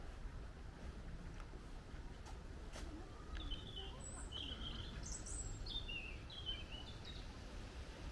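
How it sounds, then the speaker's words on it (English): Faint, scattered bird chirps rise over a steady outdoor rumble of wind or distant background noise in the Dutch garden beside a canal at Hampton Court, with a few short tweets coming and going. "Hear the birds chirping away."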